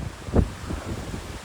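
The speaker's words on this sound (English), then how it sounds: "It's so windy" Strong wind buffets a microphone outdoors on a cycling tour near the Scotland border, with a loud gust thump followed by continuous low rumbling blasts.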